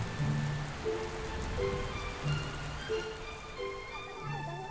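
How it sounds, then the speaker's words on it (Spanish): Steady rain falls in the mountains of Santikiri, Thailand, at the end of April, a constant wash of pattering drops, with faint tonal sounds drifting underneath. "A finales de abril, por fin llueve en Santikiri."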